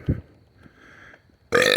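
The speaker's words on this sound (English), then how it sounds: "Hey, that's a good burp." A single loud, low burp bursts out near the start, followed by a quiet pause and then a sudden blast of bright, close noise at the end.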